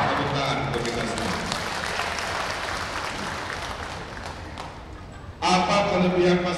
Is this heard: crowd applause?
yes